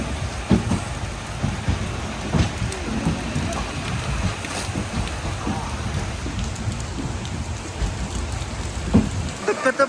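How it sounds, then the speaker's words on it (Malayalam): Heavy rain pouring steadily outdoors, a dense continuous wash of drops with scattered louder splashes and faint background voices. "മഴയായിട്ടൊക്കെ ഇവിടെ വന്നിറങ്ങിയപ്പോൾ എന്തോ മഴയാ നോക്ക്"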